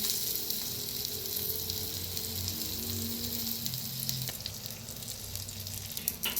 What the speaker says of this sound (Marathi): तर मस्त अशी भाजायला लागले ते.